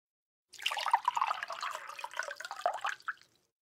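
Tea pours from a teapot into a teacup, a close liquid trickle and splash lasting under three seconds, starting abruptly and tapering off into silence.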